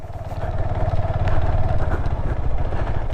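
KTM 390 Adventure single-cylinder motorcycle engine revving under throttle in first gear, a steady close, loud rumbling drone with slight rises in pitch and no talking.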